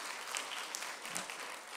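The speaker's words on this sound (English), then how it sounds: "can we give a big applause for our panelists this afternoon?" A crowd claps steadily in a dense, even patter of applause, with a few sharper individual claps standing out.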